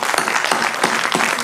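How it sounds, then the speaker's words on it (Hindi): A crowd at a cultural program gives loud, hearty applause, with close, rhythmic claps that rise and fall in quick bursts. "जोरदार ताली"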